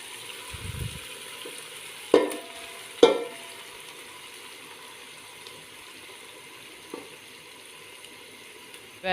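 Cooked dal poured into frying masala for dal makhani, a soft continuous sizzle in the pan broken by two sharp splashing bursts near the start and a fainter one later, close and without talk.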